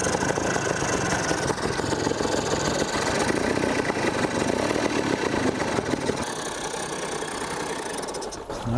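A Mercury 2 5HP outboard motor, freshly restored with its idle adjusted, runs at a steady idle close by. The loud, continuous drone holds for the whole stretch and shifts slightly near the end.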